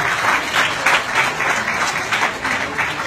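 A live audience at a cosmetics demonstration claps loudly and steadily, a close, dense wash of applause in rhythmic swells with no voices.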